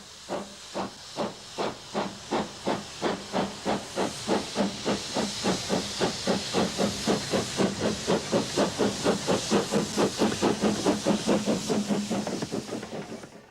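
Steam hisses out in rhythmic puffs, an original Isle of Wight steam train on a heritage railway chuffing steadily and gradually picking up pace, loud and close, with a whistle-like tone riding over the hiss.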